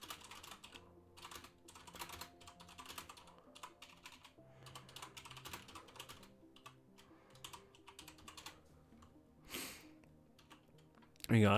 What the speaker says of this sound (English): that's me like typing away, sharing